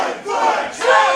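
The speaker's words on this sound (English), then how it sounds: "I hope that you can hear this crowd coming through whatever screen you're watching right now" A crowd roars and shouts at a live professional wrestling event, a brief, loud, dense burst of cheering voices that swells again near the end.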